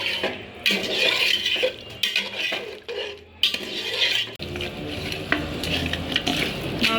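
Water is poured into a sautéed curry in a hot pan, starting with utensil clatter and stirring, then breaking into a dense, close, steady sizzle and bubbling. No one speaks.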